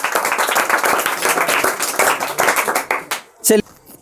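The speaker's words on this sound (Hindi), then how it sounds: "चलिए कल्लू जी के लिए ताली बजाइए।" A classroom of students claps for a classmate after a correct quiz answer, a brisk, fairly loud burst of many hands that fades out after about three seconds, followed by a short thump.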